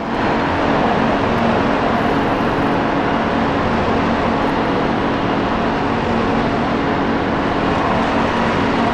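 A race car pulls out of the pits in a racing video game on an Australian circuit, its engine a loud, steady broadband drone that holds unbroken the whole time with no talk over it.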